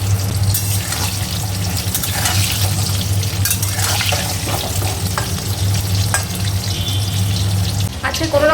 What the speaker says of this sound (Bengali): এখানে কড়াতে অলরেডি তেল বসিয়ে দিয়েছি এবার আলুগুলো ভেজে নেবো